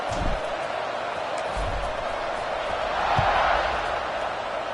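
Football stadium crowd at kickoff of a Texas A&M game, a broad, distant roar of the audience rising slightly, partly under a commentator's voice.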